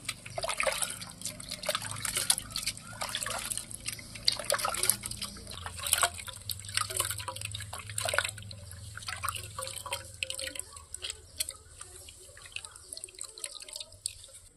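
Soaked tamarind is squeezed and dissolved by hand in water for cumin rasam, giving soft wet squelches, drips and small splashes in an irregular rhythm close up, with no talking.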